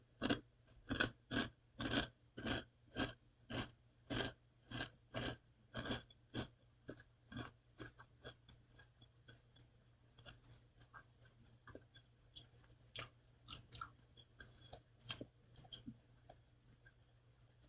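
Close crunching of a wavy cheddar and sour cream chip, a fast regular series of crisp bites that fade into softer, irregular chewing near the end, with no talk.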